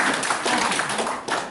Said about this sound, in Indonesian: Mau tepuk tangan ya Bapak?